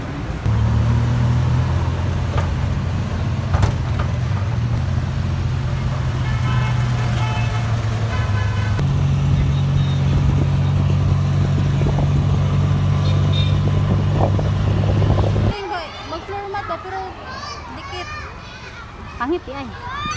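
Riding inside a jeepney through traffic, with a loud, constant low engine rumble and road noise while children and other people talk over it; the engine hum shifts partway through, then the rumble drops and voices continue.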